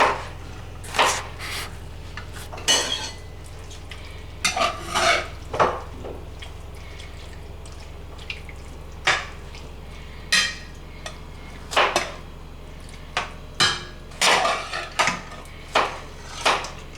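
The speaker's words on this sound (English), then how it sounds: "Stir it up." Utensil stirring chicken and vegetables in a cooking pot, with sharp metallic scrapes and clinks at irregular intervals, close and fairly loud over a steady low hum, no talking.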